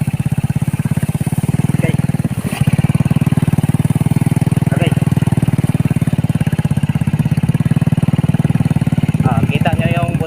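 A motorcycle engine chugging steadily at low speed along an abandoned road overgrown with grass, the loud close puttering continuous throughout with a few brief clattering knocks, and someone speaking briefly over it.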